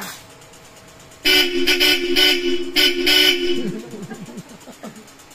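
After a quiet start, a loud car horn on a Toyota Hilux with a pair of Bosch Europa horns blares in long, strong blasts, sounding twice with a brief break before trailing off.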